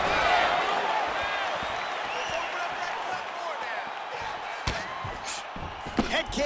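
Arena crowd noise from the UFC 5 video game fight between Israel Adesanya and Jamahal Hill, a steady roar of spectators with a few sharp thuds and bursts of reaction near the end, with commentary talk over it.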